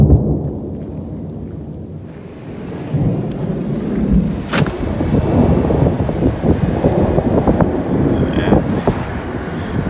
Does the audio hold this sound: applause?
no